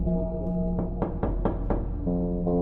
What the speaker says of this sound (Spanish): me acerqué a la casa de mi vecina y toqué su puerta